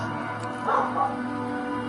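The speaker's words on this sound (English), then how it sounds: "This dog, damn dog." Short dog bark and yelp from a crime-drama video game, two brief bursts near the middle of the clip, heard over a steady background music bed.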